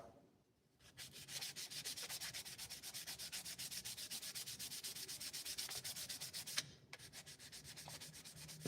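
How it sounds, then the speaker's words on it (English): Steady, rhythmic rasping strokes of sandpaper rubbing on a knife's wooden handle by hand, close up, with a brief pause near the end. "Ain't nothing more exciting than hand sanding"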